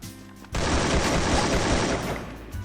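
Sustained rapid gunfire from a skinned gun in the Free Fire mobile game, a dense loud burst starting abruptly after a brief lull and continuing steadily to the end, with no talking.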